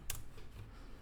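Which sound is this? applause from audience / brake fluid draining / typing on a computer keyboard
typing on a computer keyboard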